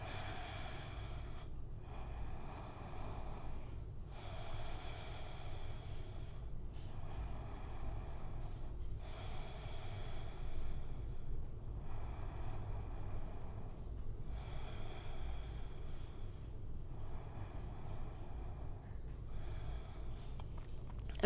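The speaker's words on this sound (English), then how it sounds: "we're finding slow, steady breaths" Slow, steady breathing during a gentle yoga flow, with soft inhales and exhales repeating every couple of seconds over a low, constant background hum.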